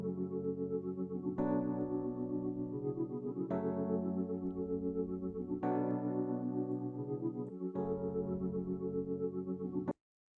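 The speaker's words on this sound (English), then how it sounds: "Then I have these chords, these E piano chords." Sustained electric piano chords pulse with a wobbling tremolo in an Amapiano beat, four long chord changes repeating steadily at close, full level, with no other sounds.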